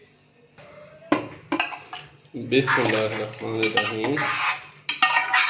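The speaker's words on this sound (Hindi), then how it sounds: "बीफ को हमने अच्छी तरह से बॉईल करके तो कढ़ाई के अंदर डाल दिया है" Boiled beef tipped into a metal karahi pan, with clattering and scraping of utensils against the pan in several bursts while a voice speaks briefly.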